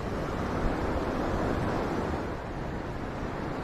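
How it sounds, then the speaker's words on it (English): Ocean waves surge steadily as a broad, continuous wash of surf on a shoreline fishing outing, easing slightly near the end with no voices. "You see the waves? You gotta watch the waves."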